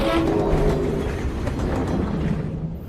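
A train in a video game rolls along its rails with a continuous rumbling clatter and wheel noise, fairly loud and steady before easing slightly at the end.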